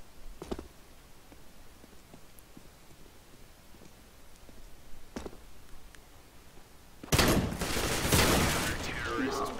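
Gunfire in the video game CS:GO: a few isolated faint shots, then a loud dense burst of rapid firing near the end, with players talking throughout.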